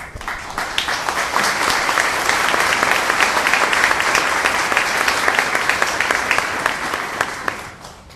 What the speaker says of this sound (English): Let's show our applause.